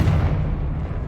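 A deep, rumbling explosion from the Confringo blasting curse in the video game Hogwarts Legacy, a single heavy boom that decays over about a second.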